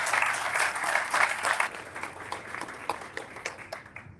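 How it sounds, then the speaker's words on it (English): Audience applause at a Utah County Commission candidate debate starts full and dense, then thins into scattered individual claps as it fades out. "can we get a round of applause for them?"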